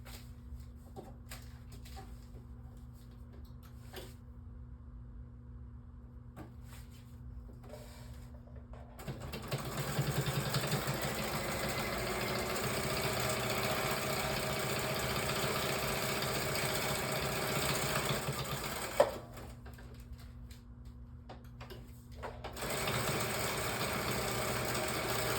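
A sewing machine runs a long, steady stitch around a narrow paper bag accordion journal, a continuous whirring hum that starts after a quiet stretch with a low mains tone, then stops briefly and starts again.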